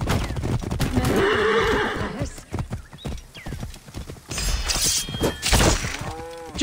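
Horses in Assassin's Creed Origins neigh loudly amid clattering hooves and thumps during a race, with a further whinny near the end.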